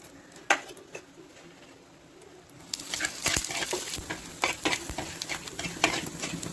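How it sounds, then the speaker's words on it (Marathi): Coriander seeds dry-roasting in a pan for a Sankranti mixed bhaji: after a quiet start with a single clack, a close, irregular run of rattling and scraping stirs with light sizzle fills the rest. "आता आपण धणे भाजून घेऊ"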